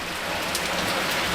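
Steady heavy rain pours down on a street as a dense, continuous hiss with no voices.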